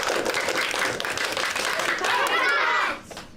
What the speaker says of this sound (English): Boys and girls, let's do our impact cheer.